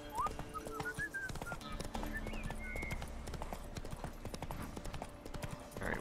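Horse hooves clip-clopping steadily in The Witcher 3 as the horse is ridden along a path, with a brief whinny and faint whistling over ambient game sound.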